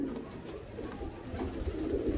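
Pigeons of a French breed coo steadily in a loft, a low throaty burbling that keeps rolling on through the whole stretch with no talk over it.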